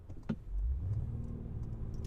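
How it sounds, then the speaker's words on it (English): The V6 engine of a 2024 Honda Ridgeline Trailsport revs up during a drive, a low, rising growl settling into a steady hum inside the cabin, with a few faint clicks on top and no talking. "280 horsepower with this V6, which definitely gets pretty loud, as you can hear there"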